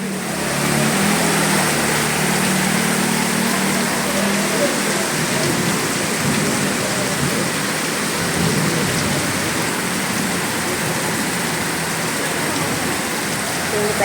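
Heavy rain pours steadily in Vasai, Mumbai, a dense continuous roar of falling water on surfaces, loud and close throughout with no pauses.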